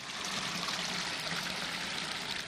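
A year-round stream runs through a 21-acre wetland feeding the Mara River, its steady broadband rush and trickle continuous and fairly close, with no voices over it.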